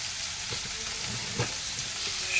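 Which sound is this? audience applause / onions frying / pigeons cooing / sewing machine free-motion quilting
onions frying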